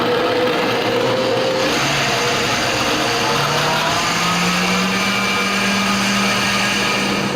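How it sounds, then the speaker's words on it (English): A KitchenAid Artisan Power Plus blender runs its soup cycle, a loud continuous motor whir with shifting pitch as the speed changes, steady throughout with no talking. "I'm literally going to let the blender do all the work for me"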